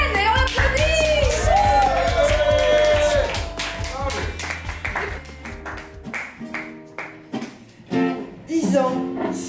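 An audience at an Apéro Bouche gathering clapping and cheering for the co-founder of La Bouche des mots, scattered claps and lively voices rising together, with talk continuing over the applause.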